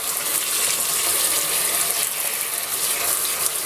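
Water gushes steadily over a paint-stripped Caterpillar 365BL excavator scale model, a continuous broadband rinsing hiss with no pauses, close and fairly loud throughout.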